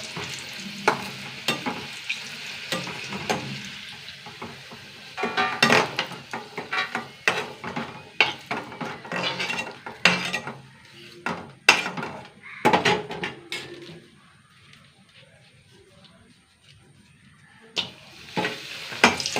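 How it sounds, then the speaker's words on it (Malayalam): Papadam frying and crackling in hot oil in a pan, with bursts of sizzle and clattering stirring and utensil knocks in uneven clusters, pausing briefly before resuming near the end. "പപ്പടം വറുത്ത് പൊട്ടിച്ചിട്ട് വറക്കാം"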